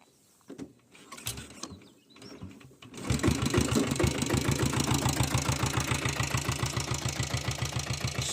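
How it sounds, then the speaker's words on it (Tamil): A Royal Enfield diesel Bullet motorcycle is kick-started after a few quiet scuffs and clunks, then settles into a loud, steady, rapid diesel thump that continues evenly to the end. "அப்படியே உங்களுக்கு இந்த வண்டி கிக் ஸ்டார்ட் பண்ணி காமிச்சிடுறேன் பாருங்கள்."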